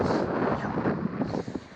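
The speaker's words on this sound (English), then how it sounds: "but it is windy" Wind gusts on a sandy beach during metal detecting, a rough broadband roar buffeting the microphone, steady and close.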